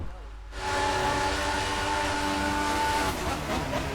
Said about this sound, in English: Train stopping. And it's still going.